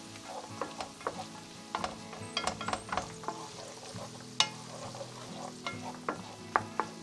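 Peeled almonds and carrots stir-fried together in a pan, with a steady close sizzle broken by intermittent scraping and clacking strokes from a utensil.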